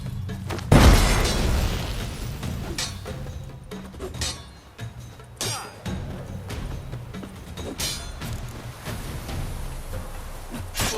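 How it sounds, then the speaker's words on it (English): A bomb explodes in The Witcher 3, one loud, close boom near the start, followed by scattered clattering thuds and bursts of combat noise with no speech. "Throw a bomb."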